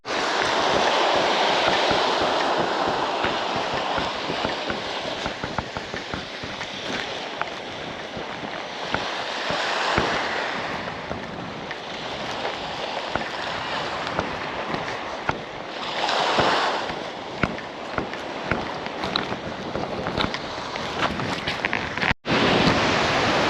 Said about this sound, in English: Really windy. The tide looks like it's coming in.